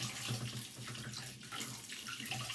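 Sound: water running while rinsing produce under tap

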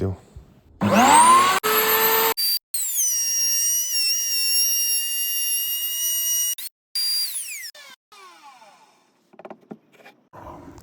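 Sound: wood router cutting a 16 mm groove in a timber block

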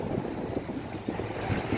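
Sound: strong sea waves at Pattaya

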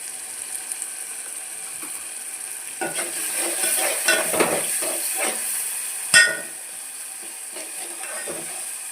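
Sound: roasting mixture in pan for kadhi

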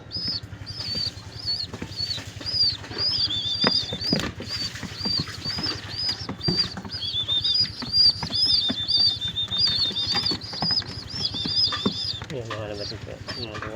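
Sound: pigeons flapping wings while being hand-fed

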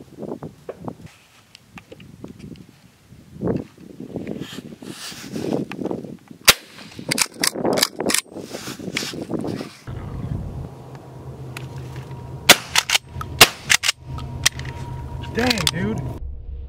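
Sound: shotgun shots while dove hunting

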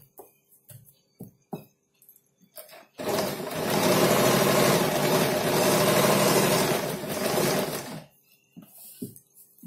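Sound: sewing machine stitching a kurti neck

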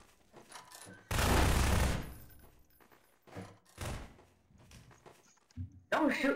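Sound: gunfire in Prop Hunt video game

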